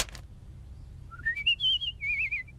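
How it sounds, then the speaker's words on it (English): Cartoon baby Maggie Simpson whistles a rising, then wavering melodic tune lasting about a second and a half, clear and close over a low background hum, preceded by a brief knock-like sound. "Where is that whistling coming from?"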